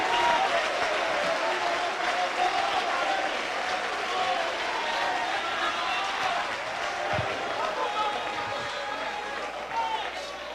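A church congregation applauds throughout, steady broadband clapping filling the room at a constant level, mixed with crowd noise and voices, some brief louder claps standing out near the end.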